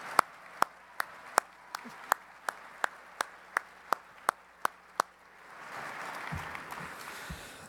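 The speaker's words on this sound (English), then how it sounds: "Please give a round of applause for all of our distinguished guests." Applause for distinguished guests at an event begins as a run of evenly spaced single claps, then swells into a softer, diffuse crowd clapping near the end, heard without talk.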